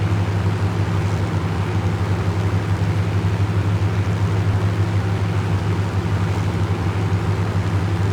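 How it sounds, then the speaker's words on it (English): A Hawker Hurricane's Merlin piston engine, modelled by Aeroplane Heaven in the Prepar3D V5 flight simulator, holds a loud, steady, throaty drone throughout the cruise, with no talking. "The Aeroplane Heaven Hawker Hurricane sounds, I have to say, very nice. The Merlin sounding rather throaty out in front of us."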